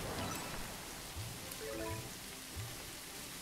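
Rain falls in the mobile game Merge Dragons as a soft, even hiss of drops on a surface, quiet and continuous, with a few faint low tones underneath and no speech.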